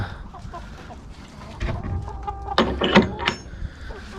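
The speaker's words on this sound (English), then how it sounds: "here's the chicken coop" Chickens cluck inside a small homemade wooden coop with windows, on a cold day; a few scattered calls grow busier and louder toward the end, with some rustling and clatter in between.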